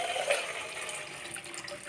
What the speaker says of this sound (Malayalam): ഇനി ഒരു പാത്രത്തിലേക്ക് തിളച്ച വെള്ളം ഒഴിക്കാം